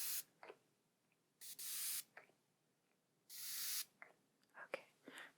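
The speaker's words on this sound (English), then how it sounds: "I just don't want to like spray it in your eyes" Close spray bottle misting in short bursts for a face-refresh moment in a personal-attention roleplay, several soft hissing spritzes, two of them long, separated by quiet gaps with faint small clicks.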